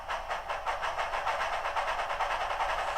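A model steam locomotive fitted with a Tsunami2 sound decoder moves along at moderate speed, its chuff repeating in a steady, even rhythm at low volume with no talk.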